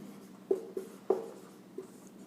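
A pen on paper writes out a math solution by hand during a lesson, making a few light, close taps and short strokes spaced unevenly over a quiet background.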